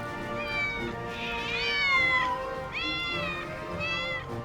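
Several cats meow over and over inside a California house shared with more than a thousand cats, with overlapping whiny cries rising and falling at close range over a soft, busy background.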